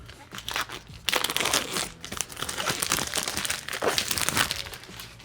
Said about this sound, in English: remove the plastic covering that comes in